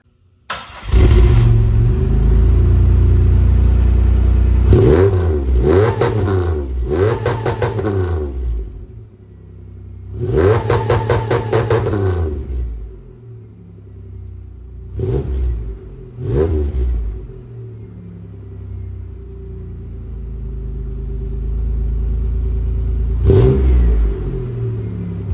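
A supercharged Chevrolet Monte Carlo engine cranks and catches, then revs hard in repeated bursts with a high whine, settling into a steady loud idle between blips.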